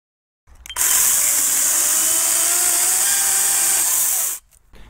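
A Sturm CC9930CL brushless cordless chainsaw whirs up sharply, runs at a steady high pitch for several seconds while cutting into wood, then cuts out abruptly.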